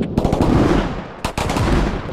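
Rapid automatic gunfire in the tactical shooter Squad, close and loud bursts of shots in quick succession, with a brief gap before another burst.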